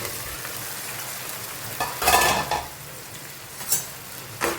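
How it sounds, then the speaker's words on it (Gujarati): Vegetables fry in oil with a soft, steady sizzle while being stirred, with a few scraping bursts from a spoon against the pan. "બાકીના શાક એડ કરી દઈએ. બસ ખાવાનું હલાવી લઈશું એટલે તેલ બહુ એ ના થાય."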